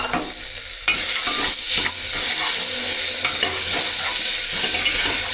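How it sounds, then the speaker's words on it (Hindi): Onions and tomatoes fry and are stirred together in a pan, giving a steady loud sizzle with repeated scraping stirs throughout, with no talking. "प्याज को तो कर लिया अच्छी तरह से फ्राई। अब इसमें डाल देता हूँ टमाटर को।"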